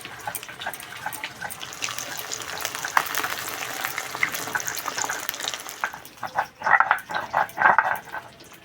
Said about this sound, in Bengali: এই মাছটা একটু কড়া করে ভেজে নিতে হবে